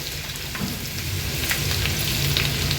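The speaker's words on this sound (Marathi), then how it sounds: "हा क्रश तेलावर छान परतून घ्यायचा आहे" Crushed ginger and garlic fry in hot oil in a pan for a clams masala, a steady close sizzle with soft crackles and spatters that runs the whole time, with no voices.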